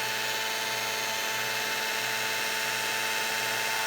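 Heat embossing tool warming embossing powder on a handmade card: a steady, loud, high-pitched electric whir and blower hiss that runs continuously without pause.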